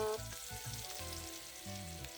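Ginger and garlic fry in hot vegetable oil, a steady close crackling sizzle that runs through the whole stretch without pause, with no talking over it.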